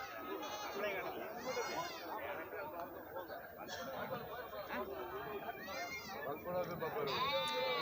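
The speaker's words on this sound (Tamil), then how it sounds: "நல்ல நல்ல ஆடுகள் குட்டிகள் நம்ம சந்தைக்கு வந்துருந்துச்சுங்க நிறையவே" Goats and kids bleat repeatedly, overlapping one another, at a busy livestock market in Narikkalpatti, under constant crowd chatter and voices.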